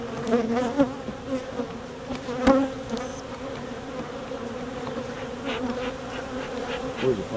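Honey bees buzzing around an open hive, a dense continuous drone close to the listener with swelling and fading passes of individual bees, no speech over it.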